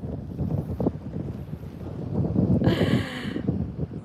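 Wind gusts steadily across a microphone at the seaside on a cold morning, a continuous low roar with a brief brighter rush partway through.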